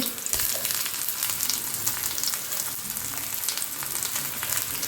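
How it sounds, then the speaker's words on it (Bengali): Food frying in a pan on a home stove, a steady dense crackle and sizzle with small popping bursts, close and fairly loud throughout, no talking. "রান্না আরম্ভ করে দিলাম।"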